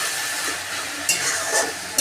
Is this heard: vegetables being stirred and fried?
yes